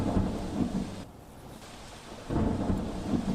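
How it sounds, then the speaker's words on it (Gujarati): Heavy monsoon rain pours down in rural Gujarat, with low rumbling thunder swelling at the start and again near the end over a steady hiss of rainfall. "વરસાદી પાણી, તે હાલમાં પડી રહ્યું છે।"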